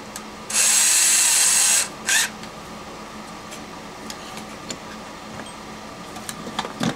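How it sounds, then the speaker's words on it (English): A power drill pilot-drills a 9/32 hole in an amplifier part, whirring loudly for just over a second, followed by a brief second burst, then quiet ticking and faint handling noises. "So first we're going to pilot drill it."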